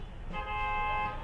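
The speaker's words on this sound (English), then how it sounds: "Stop honking." A car horn honks once in Egyptian street traffic, a steady blaring tone lasting under a second over a low rumble of the street.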